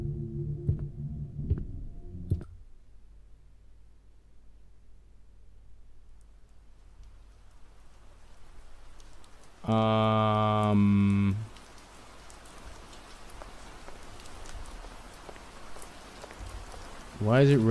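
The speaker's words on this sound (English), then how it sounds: "Why is it raining" A soft, steady patter of rain in a video game fills the background, broken by a few short tonal game sounds and a brief musical burst.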